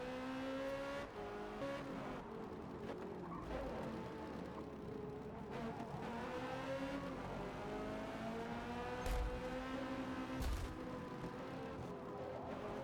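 Race car engines in the Forza Motorsport video game, a C8 challenge race, drone and rise as cars rev and shift up through the gears, with overlapping engine whines, a few sharp bursts and steady mid-level roar throughout.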